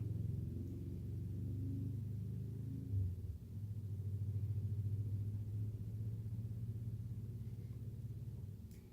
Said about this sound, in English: I'm sure you guys can hear the four-wheelers outside.